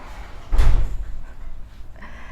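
A kitchen door is pushed shut with a single dull thud, fairly close and loud, followed by quiet room noise and no talking.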